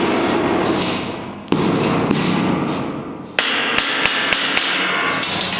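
A hammer striking suspended plate steel sheets, several sharp metallic clangs, each ringing out with a long resonant industrial decay, the later hits quicker and lighter, loud and close.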